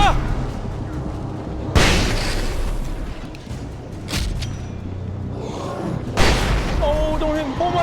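Flashbang blasts in the video game Alan Wake, several sharp booming bursts spaced a few seconds apart over a low rumbling game soundscape, with a voice talking and exclaiming in between.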